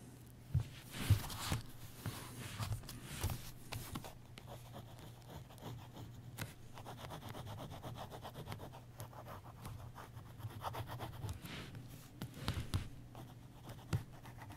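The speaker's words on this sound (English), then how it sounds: "Just sketching a little bit now" A ballpoint pen scratches across paper in short, quick strokes while sketching after Rembrandt, soft and close, with faint rustling between strokes and no talking.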